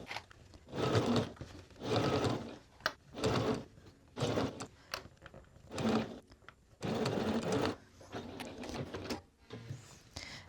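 A sewing machine stitches a jacket neckband seam in repeated bursts of rapid whirring, each lasting about a second, with short quiet gaps between them. The sound is close and fairly soft, and no talking is heard.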